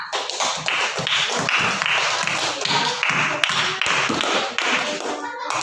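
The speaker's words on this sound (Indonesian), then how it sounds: "Ibu berikan tepuk tangan untuk setiap kelompok yang luar biasa." Classroom applause as students clap for each group, a dense run of close, sharp handclaps for several seconds with little talk.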